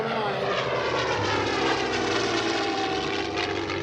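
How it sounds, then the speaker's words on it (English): A Messerschmitt Bf 109 fighter flies at the Bremerton air show, its piston engine a loud, steady, continuous roar that holds close and strong throughout with a slight rise and fall. "ME-109. Willie Messerschmitt's famous fighter"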